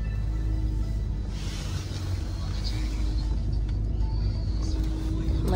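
Steady low engine rumble and road noise inside a large taxi riding through Tokyo in the morning, continuous and even throughout, with faint cabin sounds and a voice murmuring underneath.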